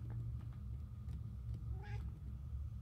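In the video game Murdered: Soul Suspect, a cat gives a single short meow near the end, heard fairly clearly over a constant low rumbling game ambience.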